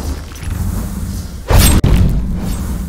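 Explosions from a mana-hungry spell build in the video game Last Epoch, a loud booming burst with a sharp crack partway through over a constant low rumble of game sound, no talk.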